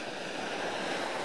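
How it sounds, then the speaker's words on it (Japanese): Big waves breaking on the rocky Sea of Japan shore, a loud, steady roar of surf under wind noise with no voices. "すごい波ですね。"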